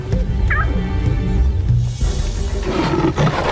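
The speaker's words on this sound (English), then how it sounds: "Her lion cub." A lion cub calls out in the wild during a buffalo confrontation, a high, strained cry over a rough, loud backdrop of grunts and trampling.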